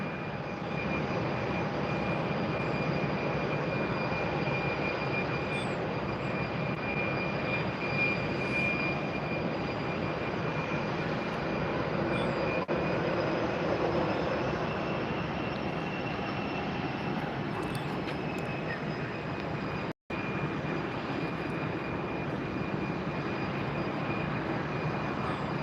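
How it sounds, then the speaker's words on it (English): Airliners at Tampa Airport, United, Southwest and American jets queued for takeoff, fill the air with a steady, distant engine roar and whine that holds throughout with little change. "We've got 3 in line for takeoff right now, United, Southwest, and then American."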